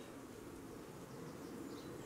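Mixed-breed honey bees, yellowish and partly Italian in origin, hum steadily at their hive, a dense continuous drone that stays even and fairly quiet throughout with no voices.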